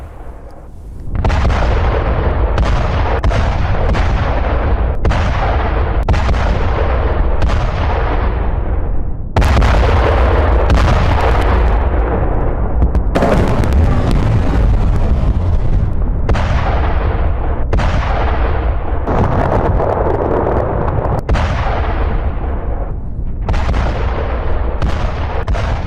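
Explosions and artillery blasts from rocket attacks boom one after another, loud, close and heavily distorted, with repeated sharp detonations over a constant roar.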